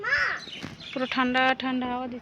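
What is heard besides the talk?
birds calling, crow cawing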